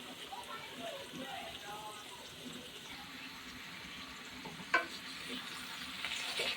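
Red amaranth greens and added water sizzle and bubble in a hot pan, a steady close hiss with soft stirring scrapes and one sharp clink, under occasional quiet talk.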